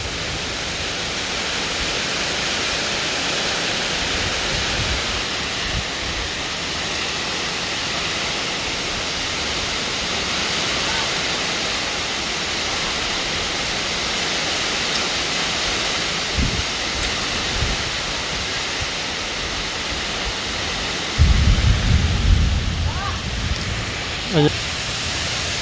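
Steady heavy rainfall pours down as a dense, constant wash of noise, with a brief louder rumble near the end that may be thunder; no talking is heard.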